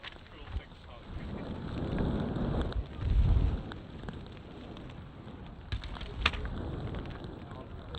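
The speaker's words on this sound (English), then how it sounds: "this raging wind behind their back" Strong wind buffets the microphone at an under-18 rugby match between Harlequins and Gloucester, swelling in gusty surges around a commentator's voice.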